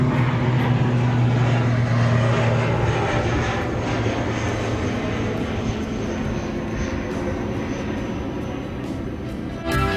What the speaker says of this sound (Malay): boleh nampak kapal terbang mendarat dan berlepas